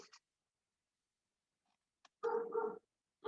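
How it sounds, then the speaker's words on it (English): A dog barks in a quiet room, first a faint short yelp and then two close, clear barks in quick succession, followed by the start of another, with long silence between. "And I do apologize for my dog barking."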